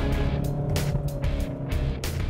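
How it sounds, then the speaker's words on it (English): Skoda Octavia diesel engine heard from inside while driving, a steady low rumbling drone with a constant hum and some rushing road and wind noise over it. "Now get into this car and instantly you know it's a diesel, no doubt about it"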